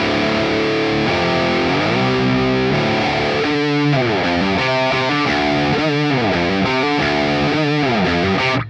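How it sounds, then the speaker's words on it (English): A distorted electric guitar plays a part from a song, its notes sliding downward in pitch several times, loud and steady with no talking. "That slide down kind of sounds good."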